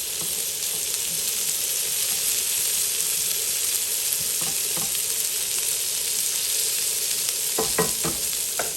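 Chorizo, prawns and bacon sizzle and spit steadily in a hot pan, a constant close frying hiss broken by a few clattering stirs near the end.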